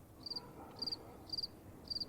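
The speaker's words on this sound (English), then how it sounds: "Crickets." Crickets chirp in four evenly spaced, pulsing bursts, each a quick trill of a few pulses, faint but clear against a quiet night background with no voices.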